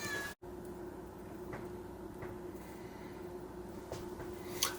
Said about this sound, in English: I found another cat.